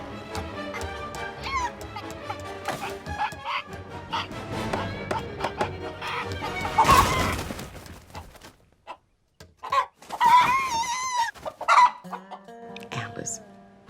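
A CGI chicken in the 2020 film The Witches clucks and squawks over a busy musical score, with a loud burst near the middle and shorter, higher clucks afterwards.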